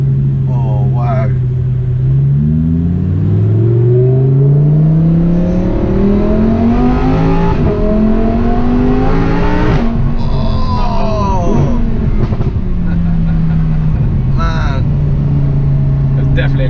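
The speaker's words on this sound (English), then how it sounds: "Definitely a crack on the upshift there" A Lamborghini Huracan's engine revs hard and climbs through the gears, with a sharp crack on an upshift midway before the pitch rises again, loud and close from inside the car, with voices under it.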